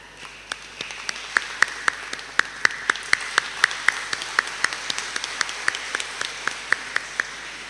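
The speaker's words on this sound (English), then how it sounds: "I think all the students should rise up for a second and give them a big clap." Graduates at a paramedical institute graduation day clap for their teachers, a sparse, fairly quiet round of individual claps, distinct sharp hits spaced irregularly through the stretch.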